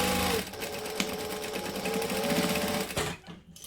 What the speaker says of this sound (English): And that was way too much back stitching